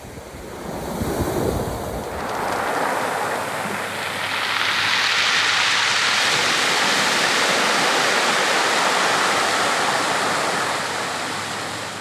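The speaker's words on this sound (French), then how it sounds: "c'est le bruit des galets qui roulent dans les vagues" Pacific Ocean waves rolling pebbles on a shore near Lima, Peru, a loud, continuous rushing surf with a hissing, gravelly wash, wind buffeting the microphone at the start.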